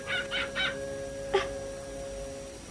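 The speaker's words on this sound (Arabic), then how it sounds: "مع الكلب أيضا؟" A dog gives three quick soft yips or whimpers close together, then a single louder yelp a moment later, over a quiet room hum with no one speaking.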